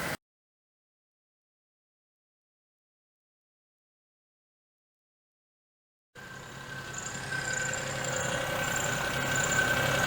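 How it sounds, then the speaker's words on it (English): A Daewoo Matiz engine with its idle slightly raised runs smoothly at idle in a steady, even drone. It starts about six seconds in, after a long silence, and no one talks over it. "I've cracked the idle up slightly, sounding nice and smooth"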